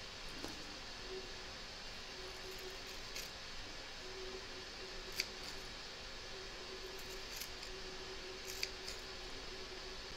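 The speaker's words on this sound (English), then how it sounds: "And you're just going to snip, I'm going to take this very end one off, and you're going to snip upwards" Scissors snip through vinyl offcuts to cut a tassel, giving a few faint, sparse clicks spread over a quiet, steady room hiss.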